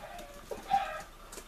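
A chicken in a party video game lets out one short, faint cluck, surrounded by quiet with no talking.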